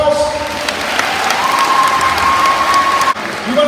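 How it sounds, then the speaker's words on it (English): A school assembly crowd applauds loudly to welcome the Pittsburgh Steelers, a steady roar of clapping filling the hall for several seconds with a sustained tone over it and a brief dip near the end. "give them a round of applause"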